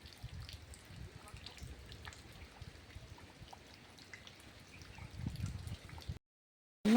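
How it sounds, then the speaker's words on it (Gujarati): Light rain patters and drips quietly outdoors over a farm field, a soft, uneven wash of drops that cuts off abruptly near the end. "વરસાદ ચાલુ છે"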